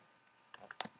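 A computer keyboard clicks in a short, quick burst of a few keystrokes while an rsync command is typed, faint and close with no voice.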